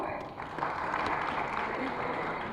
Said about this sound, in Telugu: సో గట్టిగా చప్పట్లు.